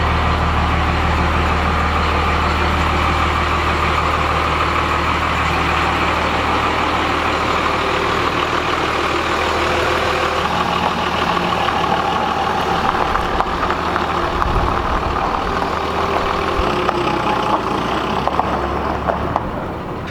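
A truck engine idles steadily after a cold start, its muffler-style exhaust giving a loud, continuous low rumble and drone that holds for the whole stretch with no voices.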